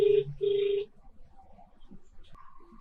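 A handset sounds two sustained tone bursts in quick succession, clear and close, followed by a quieter stretch with faint background noise and a brief higher tone near the end, as a call to Kumar is placed.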